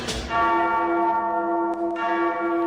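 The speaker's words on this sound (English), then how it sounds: "now listen for the bells, because the bells are going to sound" Church bells ring out with a single strong struck tone that hums on and sustains steadily, loud and clear with no talk over it.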